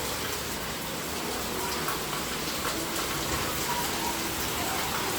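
Heavy rain lashes down and splashes onto a veranda, a dense continuous hiss of falling water and pattering drops, steady and close, with no voices.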